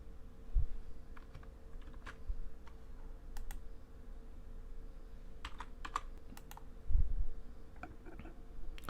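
Scattered keystrokes on a computer keyboard as a username and password are entered, light irregular clicks with a couple of heavier taps, close and quiet over a steady low hum.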